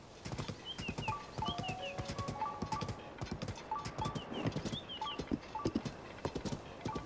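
Ganondorf's huge horse in the Zelda: Tears of the Kingdom video game, hooves clip-clopping in a steady galloping rhythm, close and prominent, with faint in-game musical chimes drifting over the top.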